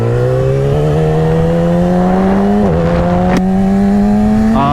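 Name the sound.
Yamaha R6 motorcycle revving with quick up and down shifter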